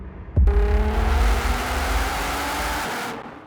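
A Nissan GT-R engine roars up hard and close from 100 to 200, its pitch climbing steadily as it accelerates for several seconds, then cuts off abruptly.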